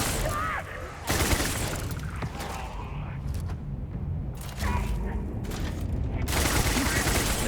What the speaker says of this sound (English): Controlled burst of 24 bullets.